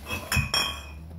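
Drinking glasses clink against each other while being unpacked, two or three sharp, close glassy knocks in quick succession with no talking.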